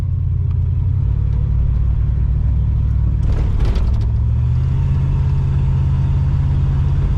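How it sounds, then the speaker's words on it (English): A 1980 Pontiac Trans Am with a swapped-in 400 engine accelerates, its exhaust a steady close-up low rumble with a brief rise in the middle of the pull. "The exhaust doesn't even sound all that awful."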